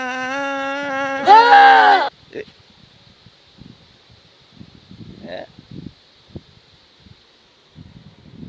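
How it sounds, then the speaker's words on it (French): Goat bleating loudly and close by, a long wavering cry lasting about two seconds, followed by quiet rustling and small scattered noises. "Une chèvre?"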